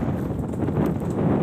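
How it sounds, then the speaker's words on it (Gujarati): Strong wind gusting across open farm fields roars steadily and rumbles into the microphone, alone with no talk. "પવન બહુ છે અહીંયા"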